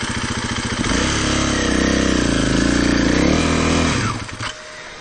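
KTM 500 EXC-F or Gasgas EC 300 dirt bike revving hard close by while riding off-road in a canyon, a steady loud engine drone with rising and falling pitch that eases off and drops away near the end.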